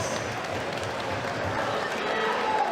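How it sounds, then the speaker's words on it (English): A crowd at a live boxing event applauds with dense, continuous clapping that holds steady throughout, filling a large space. "could we please have a big round of applause for both of our"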